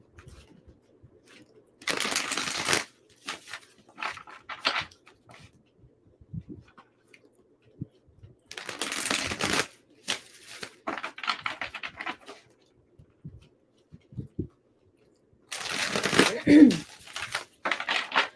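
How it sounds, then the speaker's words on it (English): Tarot cards shuffled in several separate bursts of crisp riffling and rustling, close and moderately loud, with quiet pauses of handling between them. "one more shuffle for Capricorn"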